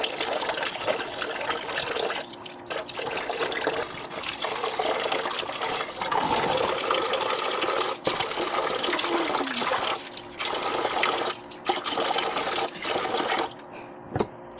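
Macaroni rinsed by hand under a running kitchen tap, with a steady, close splashing flow that continues almost unbroken and dips briefly in a few spots.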